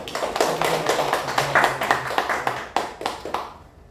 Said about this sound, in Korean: 우리 형호 선생님께 우리 감사의 박수 함께